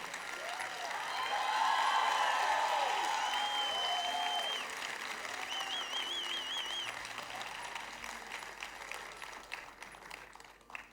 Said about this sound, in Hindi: एक बारी दर्शील सफारी के लिए जोर से ताली बजाएं